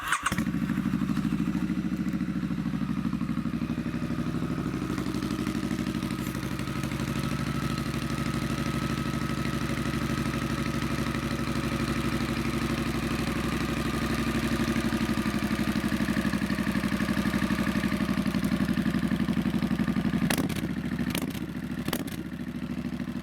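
A 2018 Triumph Street Scrambler motorcycle engine idling steadily and close, a continuous low throbbing rumble that holds even for about twenty seconds before a few short clattering knocks near the end.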